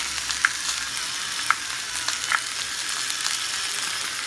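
Salmon fillet sears in a hot pan with a steady close sizzle and a few sharp pops and crackles spread through, with no talking.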